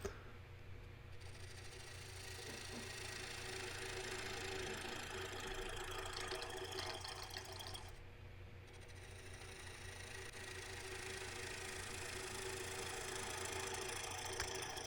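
A wood lathe spins a hickory salad bowl, giving a steady motor hum with a broadband cutting hiss that pauses briefly partway through, quiet and continuous with no speech.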